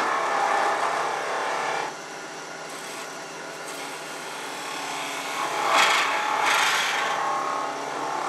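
A wood lathe turns the head of a wooden Christmas tree ornament, giving a steady scraping, rasping hiss of tool on spinning wood that dips briefly, then swells in brighter bursts, close and continuous with no talk.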